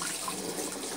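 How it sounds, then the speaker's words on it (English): Tap water runs steadily into the cavity of a freshly butchered chicken, a continuous close splashing trickle with no pauses. "You run some water in there and just dump it out"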